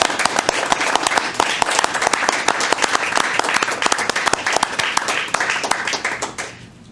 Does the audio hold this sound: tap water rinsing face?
no